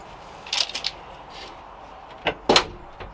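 Camper van back door being shut, heard as a few sharp knocks and rattles followed by two louder thuds near the end, close by and with no speech.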